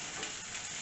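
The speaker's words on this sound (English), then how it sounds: "In 5 minutes, I'm going to give it another stir here." Onion and garlic sizzle in a frying pan while being stirred, a brief burst of steady crackling hiss close up with no talking.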